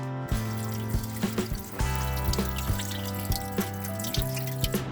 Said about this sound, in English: drain the drain plugs on the bottom of your motor